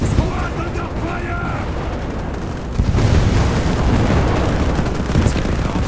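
Gunfire and explosions during a battle in the Global Conflagration video game, a dense continuous roar of shots and blasts that grows louder partway through, with voices talking over it.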